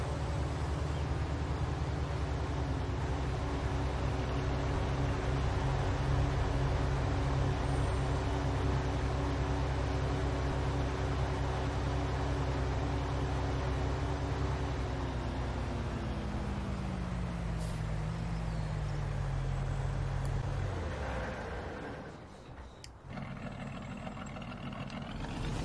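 Farm vehicle engine in Farming Simulator 19 droning loudly and steadily, its pitch sliding downward over several seconds before cutting off, leaving a quieter hum.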